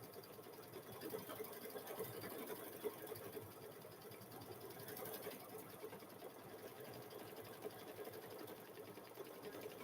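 An embroidery machine quilting a thick chicken quilt in the hoop hums and stitches steadily, a quiet, even mechanical whir with rapid needle chatter throughout and no talking.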